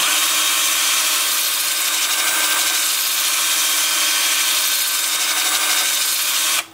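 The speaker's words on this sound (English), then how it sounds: "my drill is spinning backwards." A power drill spins in reverse against a piece of pepperwood turning on a wood lathe, giving a steady, loud, unbroken grinding whir that holds evenly before cutting off abruptly at the end.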